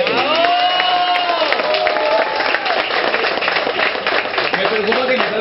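Audience at a community event for families applauds and cheers after a song, a dense, loud continuous wash of clapping with crowd voices mixed through.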